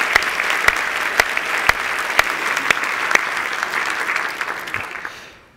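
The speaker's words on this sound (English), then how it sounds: "let's have a big round of applause for all of our TA Innovation Leader finalists." Steady audience applause for award finalists at a talent acquisition leadership awards ceremony, dense clapping held at an even level with sharp individual claps standing out, then thinning and fading out at the end.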